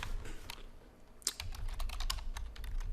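Keys clatter on a computer keyboard as search keywords are entered, a close run of quick, irregular taps with a few louder strokes, steady and fairly quiet with no voices.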